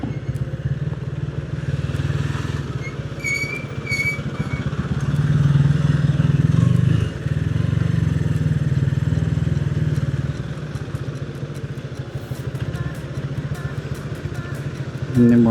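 A GL 100 motorcycle riding along a road on a touring trip, its engine droning steadily and close for the whole stretch with a rising throaty swell midway, wind and road noise underneath.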